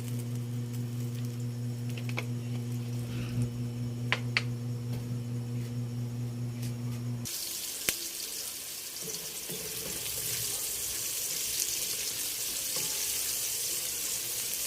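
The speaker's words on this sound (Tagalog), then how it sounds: "Tayo po muna ay magigisa na." Garlic and onion sautéing for kare-kare, with a faint background hum that gives way to a steady, bright sizzle of frying in oil, plus a few sharp clicks along the way.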